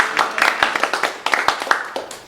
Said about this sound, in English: let's give Bill a big round of applause